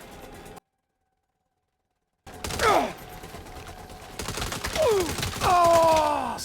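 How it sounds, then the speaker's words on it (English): Assault rifle bursts in the Saints Row video game, rapid close gunfire rattling in several volleys after a brief silence, mixed with whining ricochet-like tones and game effects. "from close range it's pretty easy to use your assault rifle"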